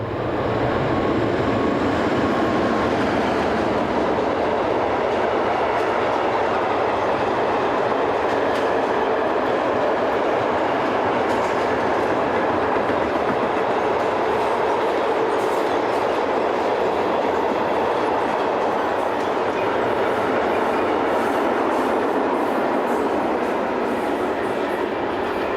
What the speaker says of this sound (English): the train was followed by 11622 and 11242 on this wagon load service bound for Italy